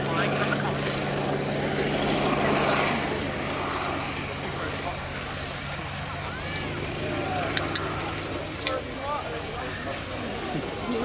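A Fairey Swordfish Mk 1 biplane passes at an air show, its propeller engine a broad, steady drone that stays loud throughout while a commentator talks over it.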